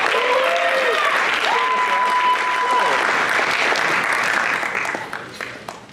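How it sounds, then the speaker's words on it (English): Steady audience applause and cheering at a student leadership summit, dense clapping from a crowd with a few whoops rising over it, fading out near the end. "Let's clap it up for them right now"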